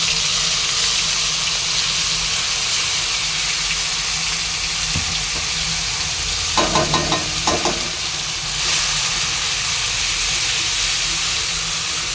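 Cabbage and potatoes hiss and sizzle steadily in a pan, with a brief clatter of utensil scrapes partway through, no one speaking.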